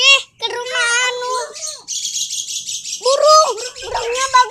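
A caged cockatoo gives close, loud chirps and squawking calls, some rising and falling, in quick succession with brief pauses.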